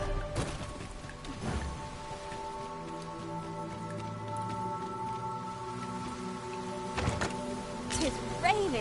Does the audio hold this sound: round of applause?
no